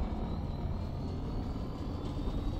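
A car engine in a video game hums as a steady, fairly quiet low rumble, held constant with no talking over it.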